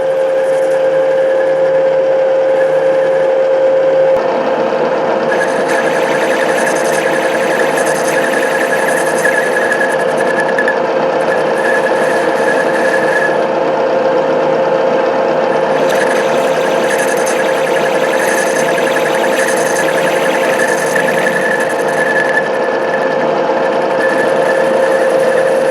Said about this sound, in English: Cut only with this wheel